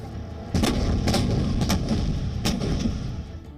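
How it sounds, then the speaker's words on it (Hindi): An Arjun tank fires during an Indian Army demonstration in the Pokhran desert, with several heavy booming blasts and rumbling echoes over a steady low background. "रेगिस्तान में उड़ती हुई धूल के बीच अर्जुन टैंक ने अपनी मारक क्षमता का प्रदर्शन किया"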